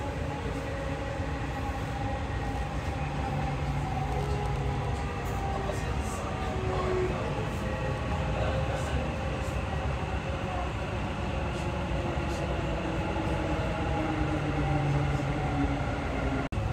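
A Dubai Metro train runs along the line, a steady loud rumble and hum of the carriage interior with faint tonal whines from the motors, continuous and unbroken.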